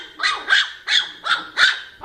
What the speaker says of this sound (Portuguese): Ah, o latido é tão lindo.